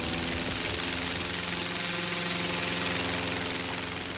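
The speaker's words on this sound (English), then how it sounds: "So, I went to Hollywood, got my own fan, and made my own wind." A large fan blowing artificial wind on a golf course makes a loud, steady, broadband roar with a low mechanical rumble underneath, unbroken from start to end.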